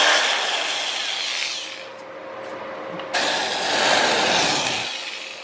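A power drill bores pilot holes into the plastic case of an Atari 2600 Jr console, a continuous loud, gritty whirring with a brief dip in the middle before it grinds on again, no talking.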